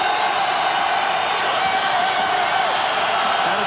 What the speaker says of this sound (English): Got to deal with the crowd here at the Pan Am Center.